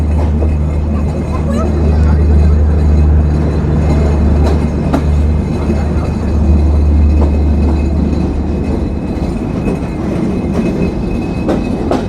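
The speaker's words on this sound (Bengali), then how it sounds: "তারপর আমাদের ট্রেন নন স্টপভাবে আমাদের ডেস্টিনেশন বিভাগীয় জেলা শহর খুলনা জেলার খুলনা রেলওয়ে স্টেশনে গিয়ে তার আজকের যাত্রা শেষ করবে" Rupsha Express rolling non-stop from Jessore towards Khulna at dusk on the Chilahati–Khulna run, with a loud, continuous rumble of wheels, a deep steady hum and occasional rail clicks.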